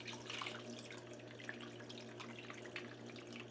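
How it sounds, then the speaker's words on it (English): About three cups of water pouring steadily into a meatball casserole dish in a home kitchen, a quiet continuous splashing stream with no talking. "We're going to throw in some water."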